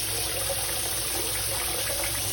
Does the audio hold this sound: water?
yes